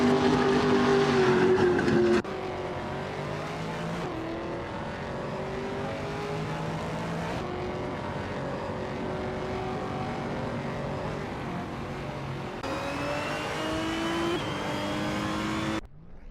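Race cars in a racing video game drive and overtake, engines droning steadily at high revs with pitch shifting as cars close in and pass, a continuous loud engine note with no talk.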